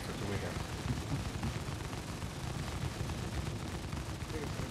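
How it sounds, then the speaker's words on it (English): Dense gunfire from many players in the Star Citizen game forms a continuous, rumbling barrage of overlapping shots at a steady, fairly faint level, with no clear gaps. "There's a lot of people firing."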